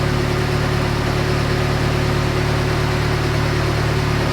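A Saab 90 with a freshly rebuilt carburettor idles steadily and loudly, a constant close engine hum with no change in pitch.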